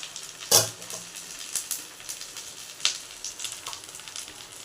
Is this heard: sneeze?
no